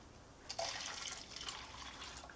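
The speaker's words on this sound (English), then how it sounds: "And you'll be surprised once you add the water to the oil." Water poured into oil while making homemade lotion, a steady close trickling and splashing stream lasting about two seconds.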